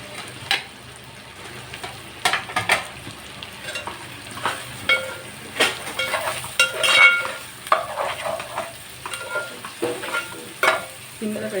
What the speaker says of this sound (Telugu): ఇప్పుడు ఉల్లిపాయ ముక్కలు వేసుకుంటాం.